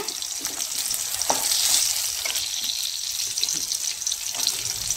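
Dried red chillies frying in a pan for coconut kulambu give a loud, continuous hiss of hot oil with light stirring clatter, close and with no talk.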